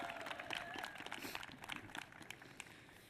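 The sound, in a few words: audience applause at Capitol Christmas tree ceremony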